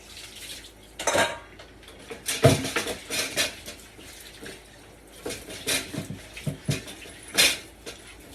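Dishes, pots and cutlery clatter and clink in a kitchen sink during washing up, scattered irregular knocks and scrapes near and fairly quiet, with water sounds underneath.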